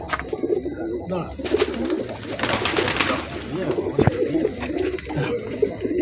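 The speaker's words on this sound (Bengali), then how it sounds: "পায়রা দুটো দুর্দর্শনীয় পায়রা আছে" A pair of pigeons, male and female, coo steadily at close range in low rolling calls, with some rustling and brief faint noise mixed in.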